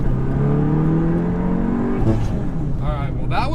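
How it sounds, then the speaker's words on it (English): A manual Volkswagen MK7.5 GTI accelerates hard at full throttle, its engine note rising steadily, then dropping at a gear change before climbing again, with a voice speaking over it near the end. "that was full throttle after releasing the clutch like a sane person, and there was no wheel speed"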